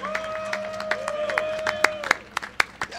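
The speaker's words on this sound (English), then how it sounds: "I think we need to give them both a round of applause" Sparse clapping from a small audience at an outdoor New Jersey rally, scattered hand claps over a steady tonal hum, with a voice talking faintly beneath.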